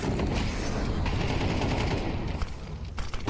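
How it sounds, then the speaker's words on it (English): Gunfire from AWP sniper rifles and other weapons in a professional Counter-Strike match between FlyQuest and Aurora, heard as a dense, continuous barrage of loud shots and clatter with a few sharper cracks near the end. "You're getting Woxic nailing shots on the AWP."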